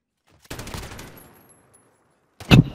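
Gunfire in Call of Duty Modern Warfare on PS4: a short rattling burst that fades out, then after a pause a single sharp, loud shot close by.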